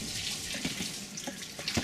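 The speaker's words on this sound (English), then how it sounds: "Just let most of the water go out like this." Water is poured off a pot of boiled pasta into a sink, a brief soft splashing gush with a few irregular spatters, close and fairly quiet.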